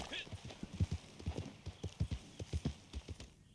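Horse hooves clip-clop on the ground in a Red Dead video game, a brisk, even trot of close, distinct beats that runs for a few seconds with no talking.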